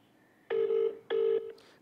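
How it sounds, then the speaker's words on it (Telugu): A phone line rings back twice, each a steady half-second tone with a short gap between, clear and fairly quiet, with no talking. "గాదా ఎన్ఏ గారికి ఒకసారి ఫోన్ చేద్దాం."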